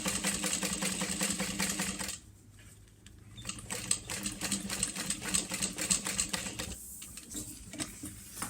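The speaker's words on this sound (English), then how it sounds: "And top stitch all the way across." A sewing machine runs in bursts while top stitching a Speedwell band, its mechanical whirring stopping briefly partway through and then resuming in quicker uneven spurts, close and fairly loud with no voices.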